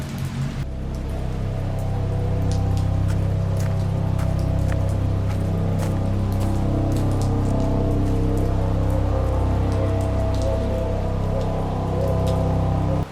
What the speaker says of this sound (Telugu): వర్షంలో తడుస్తున్నాను